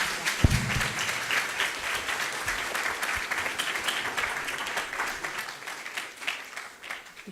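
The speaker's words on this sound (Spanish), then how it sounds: "le brindamos un fuertísimo aplauso a la doctora" A lecture audience claps loudly and steadily for several seconds in a thick crowd-wide wash. A thump or two sounds near the start, and the applause tapers only slightly toward the end.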